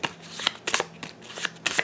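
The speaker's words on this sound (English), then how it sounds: "We're going to have to shuffle up" A deck of cards is shuffled up close during a tabletop card game, several quick riffling bursts in a row.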